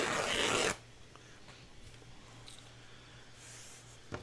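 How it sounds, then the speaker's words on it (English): Short harsh rip of a small piece torn from a fabric bag, loud and close for under a second, followed by quiet handling rustles. "I'm just going to tear a little piece of this"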